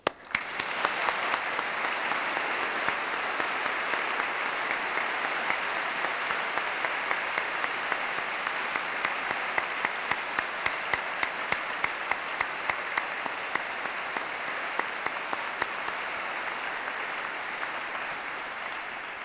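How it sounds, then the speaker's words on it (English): Sustained, dense applause from a large graduation crowd at the University of Edinburgh, honouring university staff, with a steady roar of clapping and individual sharp claps standing out throughout. "Please join me in applauding the staff of your university"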